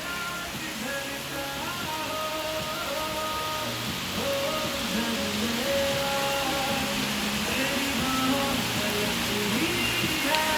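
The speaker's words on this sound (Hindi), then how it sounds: "देहरादून का मौसम गाइस, इतनी सुंदर बारिश" Steady hiss of rain falling in Dehradun, continuous and even, with faint tonal hums and murmurs underneath.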